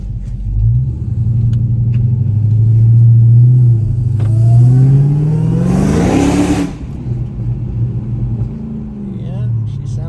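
A Dodge Hellcat Redeye with catless mid-pipes idles with a deep, rumbling burble, then revs sharply to a loud, raspy peak before dropping back to idle, heard up close with a voice in the background.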